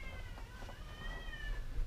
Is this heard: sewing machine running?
no